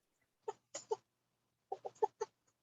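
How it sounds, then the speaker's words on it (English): An agitated chicken clucks in two quick bursts of sharp notes, fairly faint and alone against a quiet background. "Oh, I hear the chicken. It's all upset."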